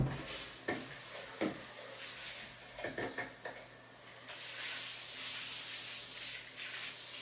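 Water sprays and splashes over a SaniteModar electric spin scrubber being rinsed off, a steady close hiss with a few sharper clattering knocks early on.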